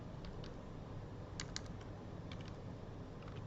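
Typing on a computer keyboard while entering text in Microsoft Word: faint scattered key clicks, a few in quick pairs, over steady background hiss, with no talking.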